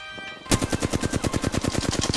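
Rapid automatic gunfire in a video game, a brief pause followed by a loud, fast, evenly spaced stream of shots that continues to the end with no talking.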